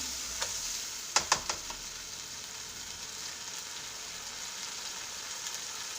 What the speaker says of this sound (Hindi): अब इसी स्टेज पे हम ये हरी मिर्च का पेस्ट और अदरक का पेस्ट भी शामिल कर देंगे और इसको भून लेते हैं